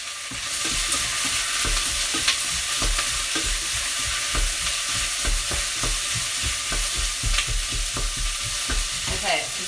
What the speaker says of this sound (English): I've chopped up 2 brown onions, so I'm adding those